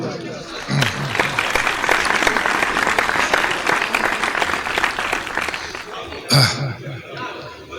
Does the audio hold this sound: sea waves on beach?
no